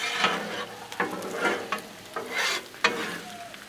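Shrimp stir fry being mixed on a Blackstone griddle, with spatula scrapes and clacks on the flat-top in quick irregular strokes over a continuous close sizzle.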